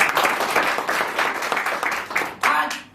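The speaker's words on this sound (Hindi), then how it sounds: "मैं चाहूंगा इस डायरेक्ट सेलिंग के लिए एक बार जोरदार ताली हो" A crowd at a direct selling meeting in Balotra, Rajasthan claps loudly in surging waves, with a brief fresh burst near the end and some voices mixed in.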